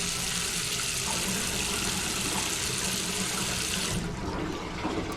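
A sink tap in a bathroom in Japan runs in a steady, close rush of water just after a toilet flush, the tone shifting slightly near the end.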